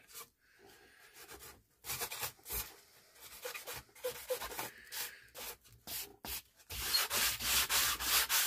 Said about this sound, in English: I'll finish sanding off camera